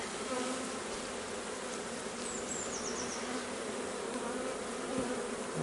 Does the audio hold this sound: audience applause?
no